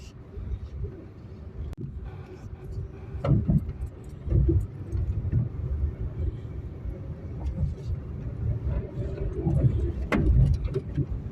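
Moving road traffic around a motorcycle on the road from Zirakpur to Chandigarh, with engine rumble and passing vehicles swelling in repeated surges over a constant low drone and wind.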